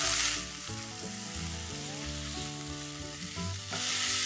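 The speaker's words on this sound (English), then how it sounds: "And while the carrots are sauteing, I'm also going to add some peas." Carrots sauté in a hot pan with a steady, close sizzle and crackle, while stirring adds scraping movement and a hum sits underneath.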